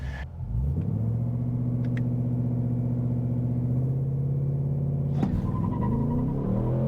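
A 2025 Ford Mustang GT pulls hard with traction control off, its engine a loud, steady, deep rumble that holds throughout, with a sharp knock breaking in near the end.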